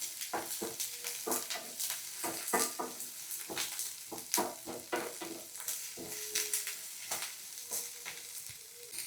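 Onions frying in oil in a pan, with steady close sizzling broken by repeated scraping and stirring strokes of a utensil against the pan throughout, no voices.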